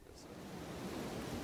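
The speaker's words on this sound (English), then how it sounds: "it's pretty windy right now" Steady rushing wind buffets the microphone on the Appalachian Trail, a continuous broad roar with no other sounds.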